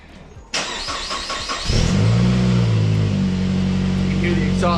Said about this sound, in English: Let's give this thing a nice cold start.